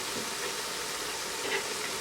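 Washed chana dal sizzling and frying in a prepared masala, a steady broadband crackle and hiss held at an even loudness throughout, with no voices.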